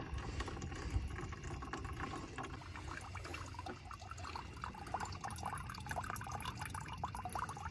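Spring water siphoned through a hose trickles steadily into a gallon jug outdoors, a continuous close pouring and splashing that holds at an even level throughout.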